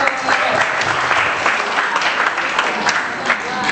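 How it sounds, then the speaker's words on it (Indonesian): Audience applause at a drama night gathering, a dense steady roll of clapping from a full room lasting throughout, with some voices mixed in beneath it. "beri tepuk tangan sekali lagi"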